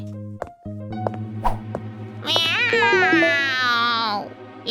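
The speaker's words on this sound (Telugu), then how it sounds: "వాటికి ఒక పెద్ద గండు పిల్లి ఎదురైంది" A big tomcat in an animated story about a city mouse and a country mouse lets out a loud, drawn-out meow over background music, with a few short clicks and knocks before it.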